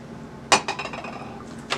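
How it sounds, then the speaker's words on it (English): Unsalted butter is dug out of its container, with a utensil making a sharp clink followed by a few softer taps and scrapes and one more clink near the end, close and fairly quiet. "I'm using unsalted butter. So I'm just going to dig some out."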